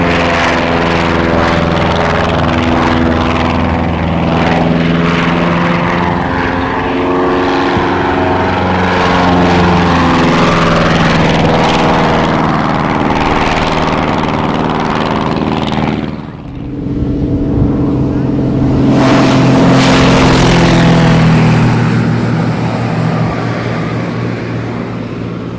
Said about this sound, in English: showing off this very nice aircraft